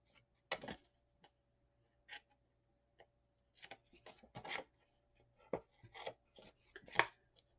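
Scissors snip tape overhang on a Crealies Lucky Star craft mini album, with a scattering of quiet, close cuts and rustles in irregular bursts and short pauses between them.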